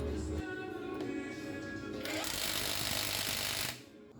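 A power tool tightening the front axle nut on an old-model Bajaj RE three-wheeler, a loud continuous buzzing whir that shifts to a harsher, brighter grind midway before cutting off near the end.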